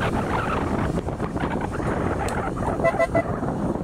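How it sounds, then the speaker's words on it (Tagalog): A vehicle horn gives a couple of short toots near the end, over steady loud wind rumble and engine noise from a moving ride. "Ang aking busina, pabago-bago"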